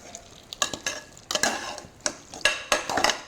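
Mutton pieces stirred and sautéed with onion masala in a pot for a village-style mutton kuzhambu, with repeated loud scraping strokes of a spoon against the vessel over a low sizzle, no talking.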